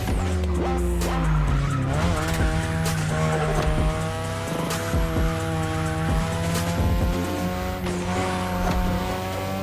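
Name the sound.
Mazda RX-7 rotary engine race car skidding in The Crew Motorfest video game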